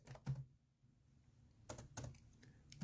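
Several quick keystrokes on a computer keyboard entering a search, quiet and sparse, coming in short bursts with pauses between, no talking.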